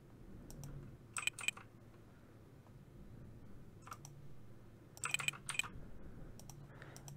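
Typing on a computer keyboard during software setup: two short bursts of quick key clicks, near and moderately quiet, with a few isolated taps between them over a low background hum.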